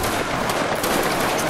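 A ragged musket volley fired by players in a Roblox Waterloo battle game, loud and dense, crackling steadily and unbroken throughout.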